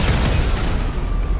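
A heavy, rumbling explosion in GTA 5 during a police patrol mission, loud and close, with dense low-end roar that holds steady throughout without a clear start or end.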